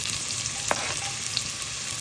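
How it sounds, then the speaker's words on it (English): Onions hit hot oil in a pot for a creamy turkey pasta, giving a steady, close sizzling hiss with a brief sharper crackle partway through. "I'm gonna add some onions."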